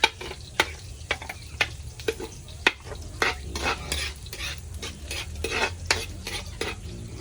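Garlic frying in a pan, a steady crackling sizzle with frequent sharp pops and stirring scrapes, close and fairly loud, no voices.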